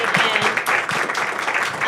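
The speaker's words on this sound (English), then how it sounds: "So let's give a round of applause for our folks here before we dig in." Applause from a festival panel audience at the Sundance Impact Lounge, a dense, steady wash of many hands clapping at close range for nearly two seconds, with faint low murmurs underneath.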